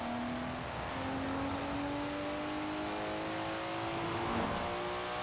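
A Nissan Skyline GT-R engine in a Forza Horizon racing game revs steadily and climbs in pitch, a continuous close whine and roar with a brief turbo blow-off near the end.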